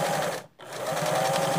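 A sewing machine stitches a simple rug, a fast close rhythmic whir that cuts out for a split second and then picks up again.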